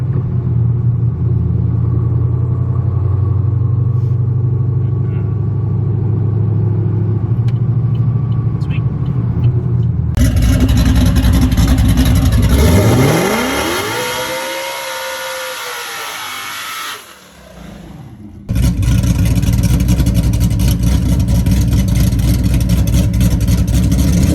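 A car engine with an LSA supercharger and an aftermarket muffler setup idles with a deep rumble, then revs loudly, rising and falling in pitch before settling back to a steady, throaty drone.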